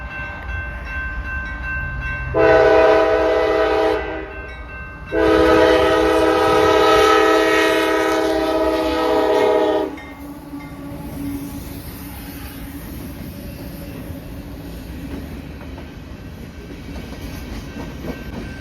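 A BNSF freight train sounds its horn in two loud, sustained blasts, the second longer, then rumbles past at close range with steady rail noise after the horn stops.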